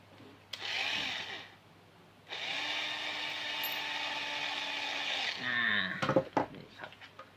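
A power screwdriver drives bolts into a truck, running in two steady whirring bursts, the second one longer, followed by clicks and handling clatter up close.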